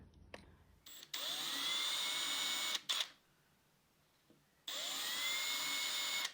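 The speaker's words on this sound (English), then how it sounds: "now I'm just going to screw it down on the grout line there" A power drill driving screws through the grout line of a kitchen splashback in a camper van whines in two long bursts with a short pause between, loud and close, the motor pitch rising as it spins up.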